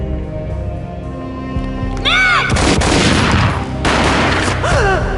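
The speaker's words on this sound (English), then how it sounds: "A gunshot boomed and she fell down in slow motion." Gunfire booms in the Max Payne video game: two loud, broad blasts over a steady rumbling background, with sweeping, chirping effects around them.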